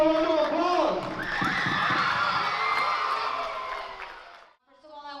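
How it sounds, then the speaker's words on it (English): Children in a crowd at a fire department fire prevention week presentation cheer and shout loudly for several seconds, a sustained burst of excited voices that fades out before an adult resumes talking. "I think y'all deserve a round of applause."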